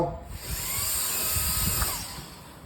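A steady, high-pitched hiss of compressed air blasting continuously for a couple of seconds, close up and fairly loud.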